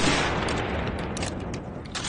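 Rifle fire in the video game Enlisted on a US dev server, a run of sharp, fairly distant shots in quick succession over a steady background rumble.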